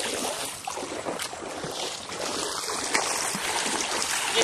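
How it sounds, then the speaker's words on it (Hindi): A small river flows steadily with a broad, continuous rushing wash of water, close and fairly loud, with no voices. "ये छोटी सी नदी है"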